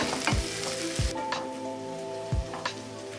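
Onions frying in oil in a pan for chicken kurma, a steady close sizzle broken by a few dull knocks of a spoon against the pan, no talk.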